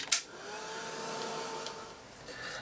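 A handheld heat or hair dryer blowing over wet paint on an art journal page, a steady close whooshing hum lasting a few seconds after a short click at the start.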